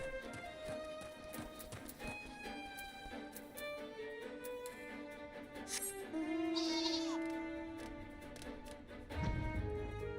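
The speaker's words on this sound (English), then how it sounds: "Let me just fly on my sheep real quick." A sheep mount in the video game Final Fantasy XIV bleats amid game audio of tapping, hoof-like steps and chiming effects, the bleats wavering and faint under the busy mix.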